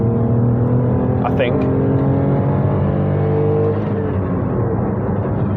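A Toyota Aygo X's non-turbo 1-litre three-cylinder engine, driven with a 5-speed manual, drones and climbs steadily under acceleration from inside the cabin, its pitch rising gradually, with someone speaking briefly over it.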